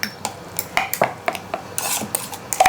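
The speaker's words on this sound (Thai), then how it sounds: "แล้วก็คนให้น้ำตาลเราละลายนะคะ" A spoon clinks and scrapes against a bowl in quick irregular taps while stirring a fish-sauce, lime and chilli dressing to dissolve the sugar for Thai raw shrimp in fish sauce, close up and without speech.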